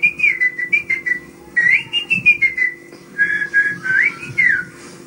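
A person whistles a lively melodic tune, shrill phrases rising and falling in short bursts with brief pauses, close and clear with no talk.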